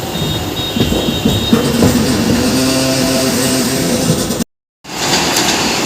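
A Howrah–Bhagalpur Vande Bharat Express rushes past, a loud close rumble of wheels and carriages with clicking rail joints and brief squealing tones, then a short dropout before the roar resumes.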